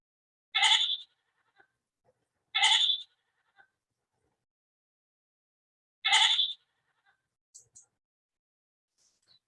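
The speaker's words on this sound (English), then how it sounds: "you can listen to the sound that goats make" A goat bleats three times, loud and close, with pauses between calls and a few faint clicks in otherwise quiet surroundings.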